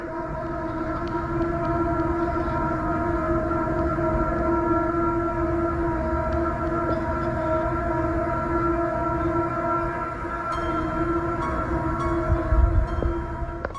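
Loud, mysterious trumpet-like drones from the sky hold as a sustained, blaring chord over a constant low rumble, with a few faint clicks near the end.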